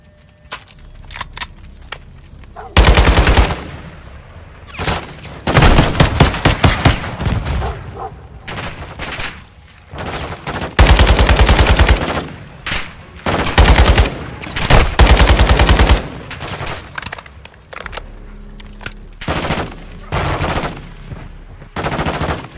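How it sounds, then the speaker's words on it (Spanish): Bursts of automatic gunfire and single shots in a Call of Duty match, loud and close, with repeated volleys spread across the whole stretch and short quieter gaps between them. "Dispara a ver cuando se acerquen."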